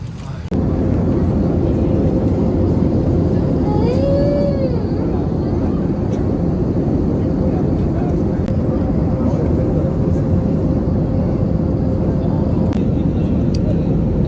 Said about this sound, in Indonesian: Kita siap landing.